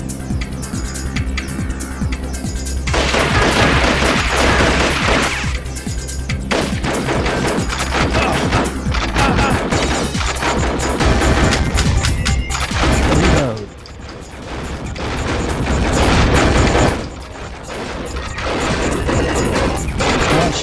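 Gunfire in the Dreamcast lightgun game Confidential Mission, dense rapid shooting mixed with crashes and booms, loud and nearly continuous with a short lull midway, under game music.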